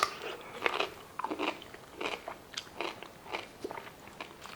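Crunchy bites and chewing of a homemade pickled cucumber brined with chili peppers, peppercorns and coriander seeds, a run of close, crisp crackling crunches heard fairly faintly.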